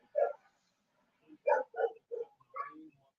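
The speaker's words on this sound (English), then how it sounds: "Definitely not going in this house with dogs." Dogs bark at a house, one short bark followed after a pause by a quick burst of four or five close, sharp barks and yips.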